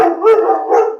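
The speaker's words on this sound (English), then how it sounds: "Sorry for the dog barking in the background." Dog barking in the background, a couple of loud, drawn-out, howl-like barks heard up close with nothing else over them.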